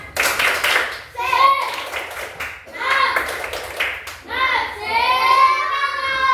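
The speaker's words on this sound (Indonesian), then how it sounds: "kita tepuk semangat dulu" A group of schoolchildren in a classroom performs a rhythmic 'tepuk semangat' clapping chant, sharp hand claps punctuating loud chanted voices in steady bursts across the whole stretch.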